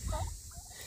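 A very large chicken makes a short, faint gobbling, clucking call. It has two quick bursts of sound that sit over a low, quiet rumble in the background.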